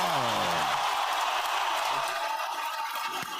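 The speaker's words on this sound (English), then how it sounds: "They would never clap for you like that." An audience applauds a guest, NAACP chapter president Richard Rose, with dense, steady clapping that carries through the whole moment and tails off slightly at the end while a voice murmurs faintly underneath.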